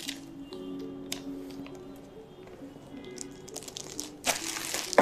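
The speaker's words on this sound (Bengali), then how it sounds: "এই স্টিকার ইনভয়েসটি এখন আমাদের পার্সেলের সাথে অ্যাটাচ করে দেখাবো।" A sticker invoice is peeled and pressed onto a parcel, giving soft crinkling and crackling paper sounds that build to a louder crumple near the end, close by and without speech.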